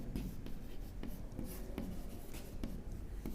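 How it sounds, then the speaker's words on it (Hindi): A pen scratches steadily across paper as the given details of a geometry problem are written down during a class 9 maths lesson, a soft, close, continuous scribble with a few small taps and no voices. "जो चीज़ हमें दी हुई है लिखेंगे"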